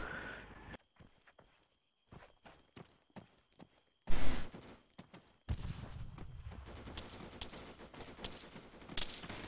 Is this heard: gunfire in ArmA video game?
yes